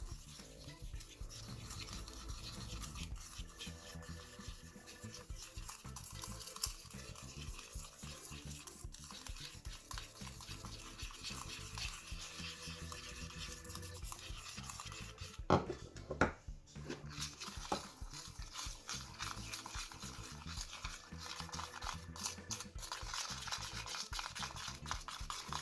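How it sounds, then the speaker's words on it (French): A spoon stirs a thick sugar and hair conditioner slime mixture in a bowl, a soft, continuous scraping and squelching rhythm, close and quiet, with a brief clatter midway. "il ne me reste plus qu'à mélanger avant de passer au micro-ondes"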